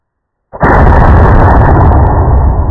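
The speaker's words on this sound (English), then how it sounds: "Dropping that big old bad boy in this gun. And shooting into this ballistic gelatin." A .50-110 WCF rifle firing a 500-grain Hawk bullet into ballistic gelatin lets off one sudden, very loud shot after a short silence. A long, dense rumbling roar follows and fills the rest of the clip.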